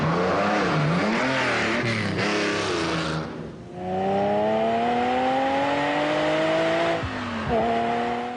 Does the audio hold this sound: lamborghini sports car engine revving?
yes